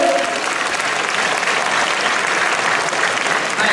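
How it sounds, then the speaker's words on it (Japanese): A crowd claps steadily at a school festival drinking contest, a dense burst of applause that continues evenly for a few seconds. "拍手。"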